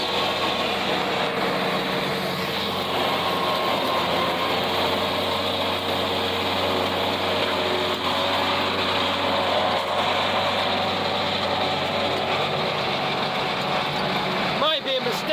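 Tractor engine running steadily while mowing a hay field, a continuous loud drone with a brief higher whine near the end.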